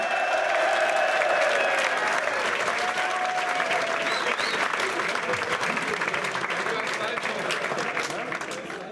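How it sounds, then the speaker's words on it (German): A crowd gives loud, continuous applause for the main match of a rap battle night, a thick sustained roar of clapping with faint cheering mixed in, tapering slightly near the end. "Kann ich bitte mal einen riesen Applaus für das Top-Tier-Main-Match heute Abend haben?"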